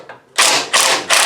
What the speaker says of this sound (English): let's see if we can get these bolts out back here